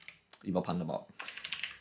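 Computer keyboard clattering with rapid keystrokes while someone codes JavaScript in Visual Studio Code, a brief spoken phrase first, then a dense run of sharp clicks.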